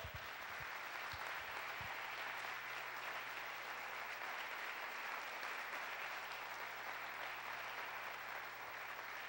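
A church congregation at an evening Feast of Tabernacles service applauds for over nine seconds, a steady, even wash of clapping that sounds fairly quiet and distant, with no voices over it.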